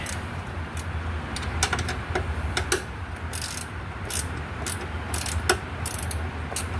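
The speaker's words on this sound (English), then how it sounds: "Use the 10mm and tighten it up." Ratchet with a 10mm socket tightening the headlight bolt on a 2008 Toyota Avalon, a series of quick close clicking ratchet strokes over a low steady background hum, no talking.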